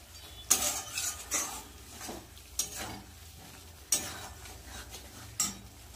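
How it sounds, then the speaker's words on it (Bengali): A spoon stirs cauliflower through a spice masala of tomato, cumin paste, ginger paste, salt, chilli and turmeric in a pan. Several sharp utensil scrapes and knocks land close over a low, soft sizzle, with no talking. "এই যে ফুলকপির মশলা কষাচ্ছি"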